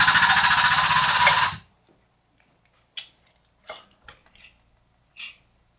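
A loud mechanical rattling burst runs for about a second and a half as a Webster damper puller with a 3-jaw adapter pulls off an engine damper, then stops, followed by a few scattered clanks and knocks.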